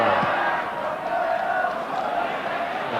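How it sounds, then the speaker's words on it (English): A football crowd at a cup final between Portadown and Glenavon roars and chants continuously, a dense, loud wash of voices filling the stadium without letup. "it's a very good crowd, and they are generating a very good atmosphere"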